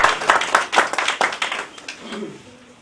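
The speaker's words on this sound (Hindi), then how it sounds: "तो बहरहाल आप जोरदार तालियों से इनका यहाँ स्वागत करेंगे" An audience at a Women's Day event applauds to welcome the mayor, a brief burst of close, crisp clapping that quickly fades out.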